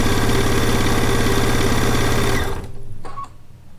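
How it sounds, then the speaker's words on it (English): Sewing machine stitching quilt block pieces together for a One Block Wonder quilt top, running in a loud, steady rapid stitching rhythm that stops abruptly partway through, followed by quieter mechanical clicks. "I am actually sewing them in the proper order as they were laid out on the design wall"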